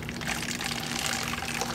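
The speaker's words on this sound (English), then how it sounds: "pour it into the bottle." Liquid hornet bait is poured slowly into a bottle, a continuous close splashing trickle at moderate volume with no talk.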